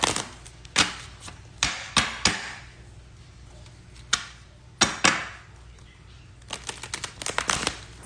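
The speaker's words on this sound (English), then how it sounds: "We're going to shuffle these cards 5 times." Tarot cards being shuffled by hand, a series of crisp riffling snaps and soft flutters coming in irregular bursts, close and fairly quiet, ending in a quick rattling run.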